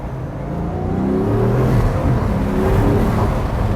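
Bugatti Veyron 16.4 Super Sport accelerating on the street, its engine note climbing and dipping as the automatic gearbox shifts, a steady loud drone heard from inside the car.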